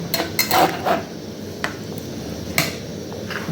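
A metal lid goes onto a pot of boiling Rupchand fish curry with cumin paste, making several sharp clinks and clatters close by, the loudest near the start, followed by quiet kitchen background.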